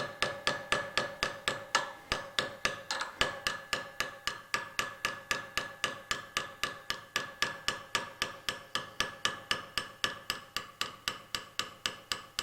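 A chisel struck repeatedly with a hammer while repairing a roller, a steady fast rhythm of sharp metallic blows close by, dozens in a row with no talking.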